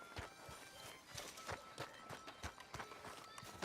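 Horse hooves clip-clop in a quick, even rhythm in Red Dead Redemption 2, close and crisp with a brief snort or whinny.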